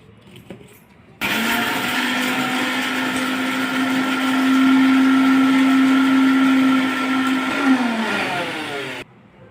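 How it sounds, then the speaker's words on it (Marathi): Kitchen mixer grinder blending sandwich chutney ingredients with a little salt, a loud steady motor whine running for about eight seconds, rising slightly in pitch midway before cutting off abruptly, with no talk over it. "आता आपण हे बारीक करून घेत आहोत"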